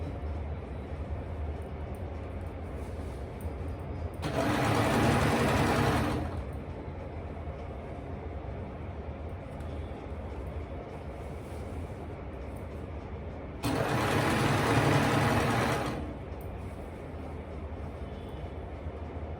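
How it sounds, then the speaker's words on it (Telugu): A small electric, pedal-operated sewing machine stitching lungi edges runs in two loud, close bursts of steady whirring, each a couple of seconds long, separated by quieter pauses. "ఈ మిషన్ చాలా బాగుందండి. చిన్నగా కరెంట్ మీద కదా, ప్లగ్ ఆన్ చేసేసి కాలు నొక్కి పెట్టడమే పెడల్ మీద."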